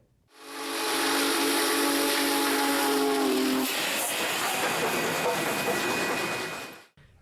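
A restored Union Pacific steam locomotive's whistle blows loud and steady for several seconds, then gives way to a strong hiss of steam before cutting off.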